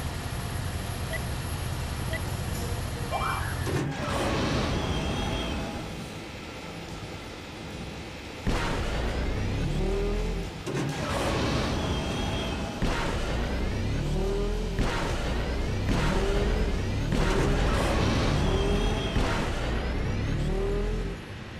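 A swoop bike racing in Star Wars: Knights of the Old Republic, its engine whining and surging through repeated accelerating bursts and whooshes over a steady loud drone, with no talking.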